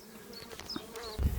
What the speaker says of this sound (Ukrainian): Активно, активно бджолки працюють, несуть пилок.